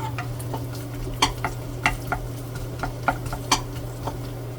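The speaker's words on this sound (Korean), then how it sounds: "마늘이 이렇게 어느 정도 자글자글 할 적에" Minced garlic sizzling in a hot frying pan for homemade jjamppong, a steady hiss under a constant fan hum, broken by several sharp clinks of a utensil scraping and tapping the pan.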